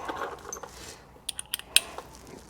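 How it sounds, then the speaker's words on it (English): A 1/4 inch socket set being handled, giving a few light, sharp metallic clicks and clinks close by, spaced irregularly and with no talking. "Let me grab my 1/4 inch setup here."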